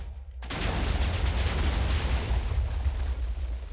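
A TNT cannon detonating in Minecraft: after a short quiet moment, a sudden loud explosion bursts in and rolls on as a dense, continuous roar of blasts for the rest of the stretch.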